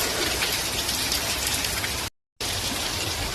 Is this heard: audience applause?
no